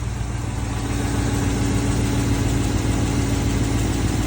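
A 2017 Ram with the 6.4-liter HEMI V8, 160 on the clock, idles with a slight hydraulic lifter tick: a steady, close rumble that holds level throughout, with no voices.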